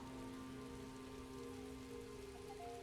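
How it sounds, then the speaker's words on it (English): Steady rain pours down during a storm in The Elder Scrolls Online, with a constant hiss of drops on surfaces throughout and no voices. "I could do without this damnable rain. It's been storming since we arrived"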